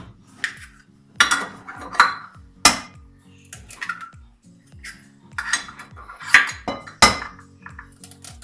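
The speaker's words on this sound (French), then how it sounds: "on va fouetter les œufs avec le sucre jusqu'à ce que le mélange blanchisse" Eggs and sugar whisked in a bowl for a lemon tart, heard as close metallic clinks and rattling strokes against the bowl in irregular bursts, with no talking.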